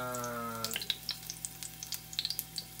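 Food for Ilocano igado stirred in a sizzling pan: a low hum fades early, then soft frying crackle runs under repeated scraping and clinking strokes of a utensil, close and fairly quiet.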